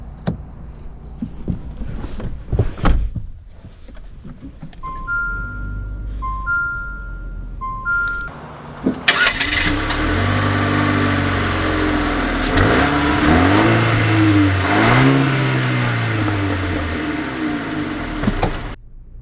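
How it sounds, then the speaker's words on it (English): A 2019 Jeep Renegade Trailhawk with a turbo engine, first some beeping chimes, then the engine cranks to life and revs as it pulls away, with a steady rising drone, close and loud. "let's take out this 2019 Renegade with the turbo to see how it drives"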